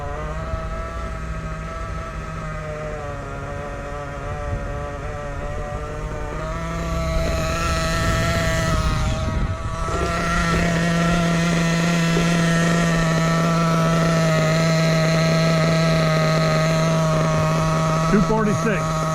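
Nitro engine of a Losi 8T RC truck running during break-in: a steady, loud buzzing drone with a constant pitch that rises slightly partway through and keeps going without pause.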